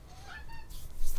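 A house cat meows softly indoors, giving a short, faint, wavering cry over low room noise.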